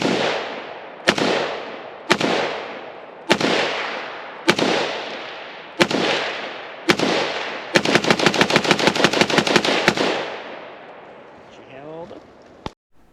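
An HK G36 rifle fires outdoors: seven loud single shots spaced about a second apart with ringing decay, then a rapid burst of a dozen or so rounds, and a final lone shot.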